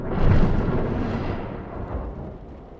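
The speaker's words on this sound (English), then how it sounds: "It's just a storm." A thunderstorm rumbles loud and close, with a heavy broadband burst of thunder near the start that slowly fades into a long, dimming roll, with no talk over it.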